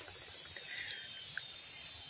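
Cicadas buzz continuously outdoors, a dense, steady high-pitched drone that stays level throughout, with a faint chirp or two mixed in and no talking.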